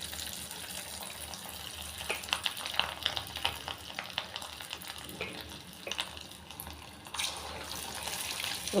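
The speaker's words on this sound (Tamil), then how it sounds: "இப்போ ஒன்று ஒன்றா போட்டு எண்ணெயில் போட்டு பொரிச்சு எடுத்துக்கலாங்க." Rava dough balls deep-fry in hot oil, a busy continuous sizzle with crackling spits and pops that swell and fade, close by, with no voices over it.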